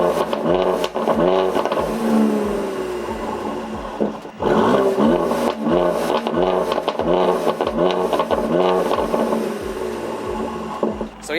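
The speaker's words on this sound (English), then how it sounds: "the C43 has the best exhaust note, as long as it has the AMG performance exhaust." A Mercedes C43 AMG fitted with the AMG performance exhaust revs repeatedly, loud and close, its engine note rising and falling in quick bursts with crackly, rasping edges and no talking.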